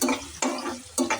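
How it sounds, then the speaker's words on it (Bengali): Onion being stirred and fried in hot oil, three close scraping strokes in a steady rhythm, each with a crackling sizzle that fades between passes. "পেঁয়াজটা আস্তে আস্তে আমি তেলের ভিতরে লাড়তে আছি"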